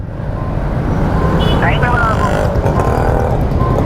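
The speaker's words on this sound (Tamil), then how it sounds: "இங்கே ஃபுல்லாக டிராஃபிக்காக தான் இருக்குது" Dense, steady roar of heavy road traffic in Vadapalani, with engines droning continuously close by and a voice heard faintly beneath the noise.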